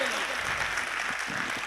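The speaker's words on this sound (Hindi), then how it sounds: "तालियां कमजोर हैं दोस्त" An audience at a mushaira poetry event in Pant Nagar gives brief, moderate applause, a short burst of clapping with a voice speaking over it.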